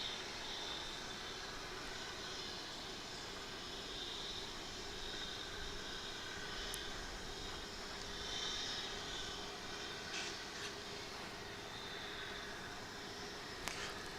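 An American Eagle ERJ 145LR regional jet from Wichita Falls at DFW airport, heard as a faint, distant, steady jet-engine drone with no talk.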